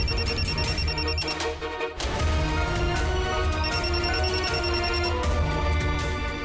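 A mobile phone left behind in a room rings with a loud, steady electronic ringtone melody that repeats continuously, briefly dipping before resuming.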